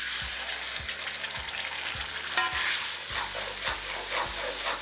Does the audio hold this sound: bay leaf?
yes